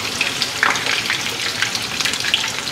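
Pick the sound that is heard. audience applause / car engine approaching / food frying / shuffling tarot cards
food frying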